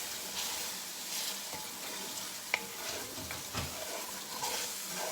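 Onions and roux sizzle steadily in a chicken-stew pot over low heat, with a soft, continuous fry and occasional scrapes and clinks as the mixture is stirred close by.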